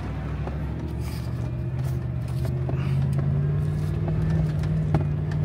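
A truck engine labours up a big, steep off-road hill, giving a steady, loud low drone that swells slightly partway through, with no talk over it.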